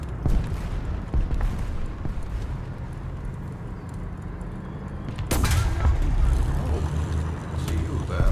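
Gunfire in the War Thunder video game booms as one heavy report in the middle, with rumbling engine and battle noise running throughout under low talk.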